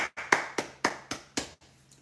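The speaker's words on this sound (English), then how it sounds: "So big round of applause for Bob." A handful of separate, sharp claps sound close by at an uneven pace on a live coffee morning stream, fading out toward the end rather than building into full applause.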